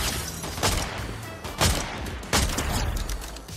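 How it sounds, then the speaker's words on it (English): Gunfire and a grenade blast in the Fortnite video game: a dense, continuous crackle of shots with several heavier bursts punching through at a steady, loud level. "A grenade. Grenade."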